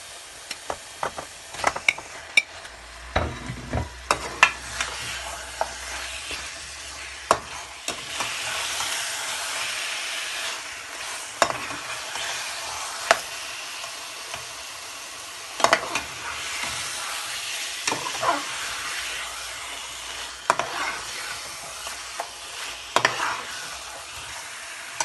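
Chicken frying in a tomato masala for chicken curry, with a continuous loud sizzle broken by frequent sharp clacks and scrapes of a spoon stirring in the pan.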